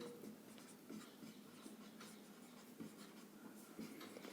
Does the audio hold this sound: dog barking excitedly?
no